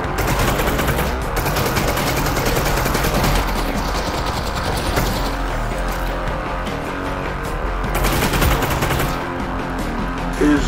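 Sustained automatic gunfire from the video game Half-Life: Alyx, a dense, loud, continuous barrage with no breaks for about ten seconds.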